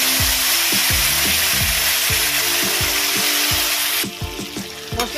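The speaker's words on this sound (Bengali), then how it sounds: "এবারে এই তেলের মধ্যে কাজু, টমেটো, কিশমিশ যে পেস্টটা বানিয়েছি সেটা দিয়ে দেবো।" Cashew, tomato and raisin paste hits hot oil in a pan, giving a loud, steady sizzle with repeated scraping stirs throughout, the frying quieting slightly near the end.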